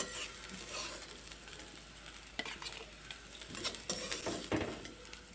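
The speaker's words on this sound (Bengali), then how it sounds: "কাঁকরোলগুলোকেও সুন্দর করে ভেজে নিয়েছি এবার তুলে নেব কড়াই থেকে" Teasel gourd pieces fry in a wok, a soft steady sizzle under occasional stirring scrapes and light clinks of a utensil against the pan, quiet and close with no talking.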